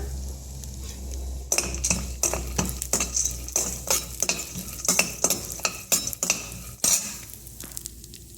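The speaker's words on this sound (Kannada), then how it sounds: "ಈಗ ಒಂದು 4 ರಿಂದ 5 ನಿಮಿಷ ಸಣ್ಣ ಉರಿಯಲ್ಲಿ ನಾನು ಬಾದಾಮಿನ ಫ್ರೈ ಮಾಡ್ಕೊಂಡಿದ್ದೀನಿ" Almonds dry-roasting in a pan over a low flame, stirred with a utensil that scrapes and clinks against the metal in quick, irregular strokes, close up, over a soft steady background hum, no talk.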